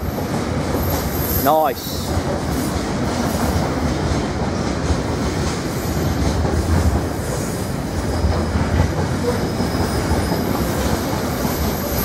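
Intermodal freight train hauled by locomotive 66772 passing through Ely station: a loud, steady rumble of wagons fills the whole stretch, with a brief wheel squeal early on and a single short spoken word.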